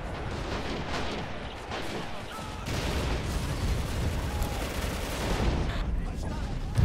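Sustained gunfire in a Stalingrad battle video game, house-to-house fighting through buildings: dense rattling shots and volleys, growing louder partway through, with a voice talking underneath.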